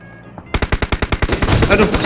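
Automatic gunfire in the mobile battle-royale game PUBG Mobile rattles off as a rapid, loud burst of about a dozen evenly spaced shots, ending in denser overlapping blasts, with faint background tones before the first shot.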